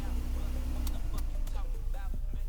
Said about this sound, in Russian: И печка издает звуки посторонние, то есть шумит